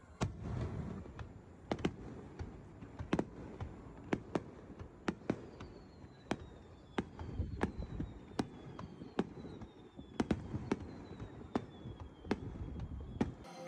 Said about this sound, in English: Then some fireworks.